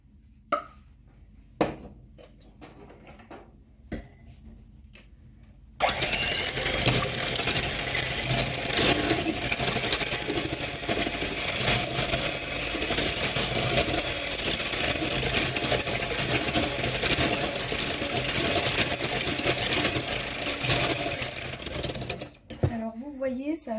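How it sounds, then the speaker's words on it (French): An electric hand mixer whirs steadily for about sixteen seconds as it blends eggs with oil for coconut balls, starting abruptly after a few light clicks and knocks, loud and close with no talk over it. "on va mélanger les œufs avec l'huile et on va mixer"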